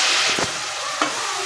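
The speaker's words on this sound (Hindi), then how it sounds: "और इसको अब अच्छे से भुनने देंगे" Onion, tomato and spices fry in oil in a pan, with water just added. A steady hiss of sizzling runs throughout, and a couple of brief scraping stirs of a spoon are heard near the start and around the one-second mark.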